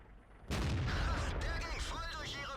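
A Tiger tank's gun fires in World of Tanks, a sudden loud boom that rolls into a sustained rumbling tail as the battle continues, with a voice talking over it.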